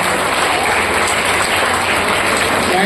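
Loud, dense applause from a crowd at a student competition and certificate event, continuous and even from start to finish with no talking over it.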